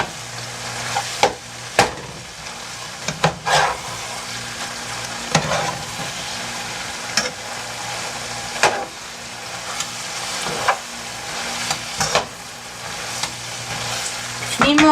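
Rice filling for air-fried stuffed peppers being stirred and mixed in a bowl, with repeated scraping knocks every second or two over a low background hum.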